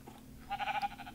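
A sheep in the Minecraft video game gives a short bleat at night, a single brief wavering cry of moderate loudness with no talking over it.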